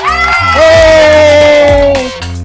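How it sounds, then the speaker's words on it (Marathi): Children cheer loudly outdoors for the winner of a game, with sustained high-pitched shouts and whoops close by; no clear clapping stands out. "रिशू साठी जोरात टाळ्या"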